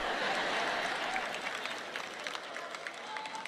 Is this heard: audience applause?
yes